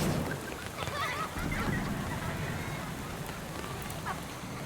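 Steady rain falls across a rainy area in the video game Duet Night Abyss, a dense, even hiss of drops on surfaces with no clear breaks and no talk over it.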